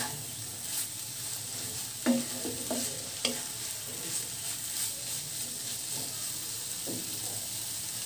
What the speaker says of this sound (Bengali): এবার মূলার সাথে ডিমটা ভালো মতো মিক্স করে নেব।